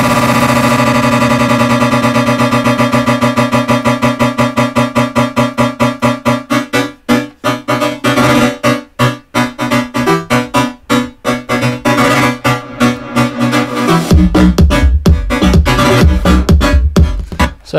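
Looped sample with automated shortening loop length, bounced to audio, a loud dense electronic texture whose repeats tighten into a stuttering roll, then shifts to a deeper thudding section near the end.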